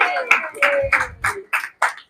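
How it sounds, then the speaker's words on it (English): Scattered clapping of a small audience for a guest during an online chat show, a few quick claps in an uneven rhythm, close and brief. "Big round of applause."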